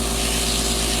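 An airbrush air compressor kicks on and runs as a steady, close mechanical hum with a constant motor drone and no talking.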